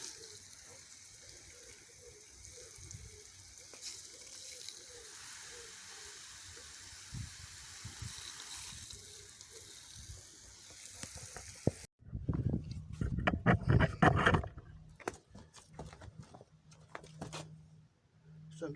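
A Suplong 100-foot expanding garden hose sprays water onto a garden: a soft, steady hiss at first, then louder, close gushing bursts of spray splashing nearby.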